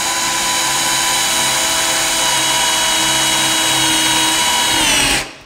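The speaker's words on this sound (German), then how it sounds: "ich bohre jetzt gerade mal ein Loch für euch vor, dass ihr das seht" A loud electric drill whines continuously while boring a pilot hole in a wooden board, its pitch sliding slightly as it works, then winds down and stops at the end.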